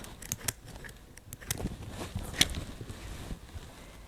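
Thread end being trimmed with scissors at an Avante machine during setup, a single sharp snip standing out near the middle of a short stretch of quiet handling sounds, with no talking.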